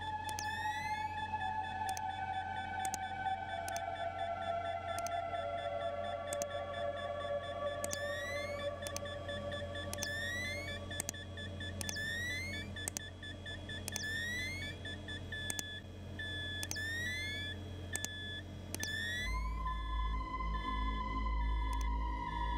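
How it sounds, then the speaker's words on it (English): Repeated electronic beeps sound in the video game Fears To Fathom, a series of short rising chirps over a sustained tone and a low hum, steady and fairly loud throughout, with the tone shifting near the end. "What is that beeping sound?"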